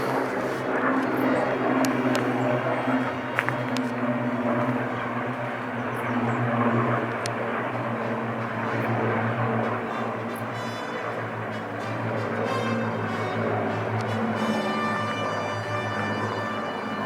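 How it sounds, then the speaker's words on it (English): A bomber aircraft drones overhead above Doggets Fishery in Rochford, a continuous low propeller-engine hum that holds steady and fairly loud across the whole stretch, with faint outdoor background noise. "bombers everywhere."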